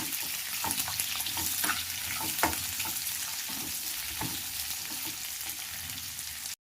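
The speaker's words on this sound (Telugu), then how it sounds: "ఆనియన్స్ వేసి కొద్దిసేపు ఫ్రై చేసుకుందాం" Sliced onions fry in a pan for a tamarind rasam, a continuous close sizzle and crackle with intermittent scrapes and taps of a stirring spoon.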